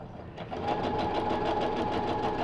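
A sewing machine stitches a paper-pieced quilt block, starting up after a short pause and then running at a steady, fast, even rhythm, close and moderately quiet.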